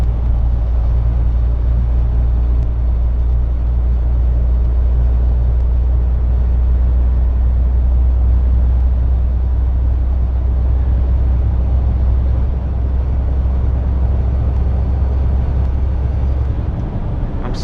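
A Volvo truck pulling a 24 m trailer drives along, its engine and automatic gearbox producing a steady, loud low rumble and drone that continues unbroken through the whole stretch with no voices.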